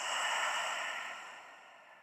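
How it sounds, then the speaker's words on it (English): A slow, steady breath is exhaled during a beginner Pilates relaxation exercise, soft and close, fading gradually over two seconds with no talking. "We stay there for 2 more breaths, breathing in"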